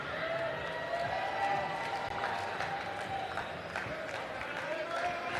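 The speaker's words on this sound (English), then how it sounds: "Let's cheer Paco on" A jai alai crowd makes a continuous dense roar of cheering and chatter, with a few claps and shouts mixed in and speech running through it.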